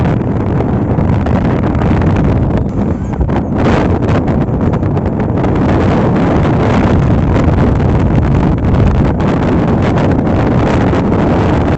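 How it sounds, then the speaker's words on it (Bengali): Strong wind buffets the microphone on a moving motorcycle along a village road, a loud continuous rumbling roar that barely lets up throughout. "এমনিতে অনেক বাতাস দিচ্ছে"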